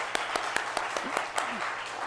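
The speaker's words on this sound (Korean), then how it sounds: "두 분께 박수 좀 해주시죠" A small congregation at a Sunday afternoon church service claps for two people, about ten sparse, evenly spaced claps with faint voices underneath.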